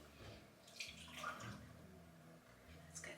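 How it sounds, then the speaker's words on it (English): Water splashes and trickles into a bowl of sourdough mix in a home kitchen, a soft, continuous pour heard close and quiet. "Let's get some water in there."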